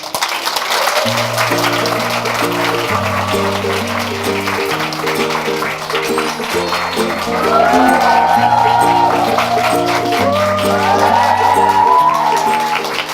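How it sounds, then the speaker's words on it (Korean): An audience at a stage lecture event applauds to welcome a guest, a model, onto the stage, with broad sustained clapping and some crowd noise under a loud musical accompaniment with a steady rhythmic beat. "큰 박수로 맞아주세요"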